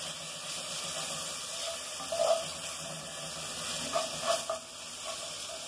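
Garlic frying in pork lard in a pan, a steady soft sizzle throughout with a few brief louder stirring scrapes, no talk.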